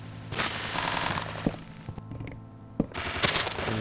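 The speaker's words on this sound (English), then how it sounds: "and this weird sound glitch is coming up again." Harsh, dense glitchy noise from a Minecraft game, a loud crackling buzz with sharp bursts that drops away and then returns, heard without any talking.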